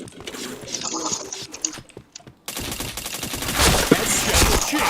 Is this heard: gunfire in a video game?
yes